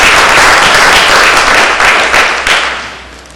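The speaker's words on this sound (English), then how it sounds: "Please give them a round of applause for being here." An audience at a political discussion panel applauds its guests. Loud, close, dense clapping holds steady for a few seconds and then tapers off.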